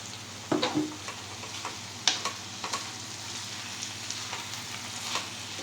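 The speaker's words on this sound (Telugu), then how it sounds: "ఇప్పుడు మనం ఈ తురుము పెట్టుకున్న కొబ్బరి వేసేద్దాం" Grated coconut is stirred into a brinjal curry frying in a pan, with a soft sizzle under repeated scraping and clinking strokes of the spoon against the pan.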